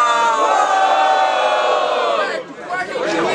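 Crowd at a rap battle in a student battle event in Guarulhos cheering and shouting loudly, a dense sustained roar that dips briefly before swelling again.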